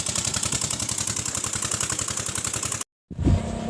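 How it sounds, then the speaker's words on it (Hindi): A farm water pump engine running to irrigate crop fields, a loud rhythmic chugging thump at steady pace, briefly cut off near the end before resuming with a different hum. "तो यार इंजन को स्टार्ट कर दिया है।"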